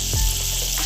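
Lentil fritters for dahi bara frying in hot oil in a pan, a close, steady sizzling hiss for under a second, with no voices.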